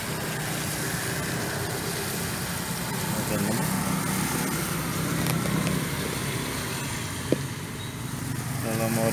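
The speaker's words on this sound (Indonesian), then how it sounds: "biasanya suara mesinnya ntar lebih halus, Pak" A 2010 Nissan Serena 2.0L engine fitted with an HHO fuel saver idles steadily at close range, a continuous low hum with a brief click near the end, while people talk over it.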